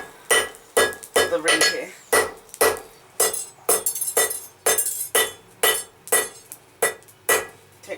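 Steel taper for a BBQ grilling fork being hammered on an anvil: a steady run of sharp, ringing metallic strikes, roughly one or two per second, close and loud, with brief talk over the early blows.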